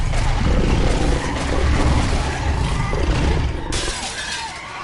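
Glass shatters in The Wolf Among Us, a loud, sustained crash with scattering breakage over a roaring, rumbling game background that fades toward the end.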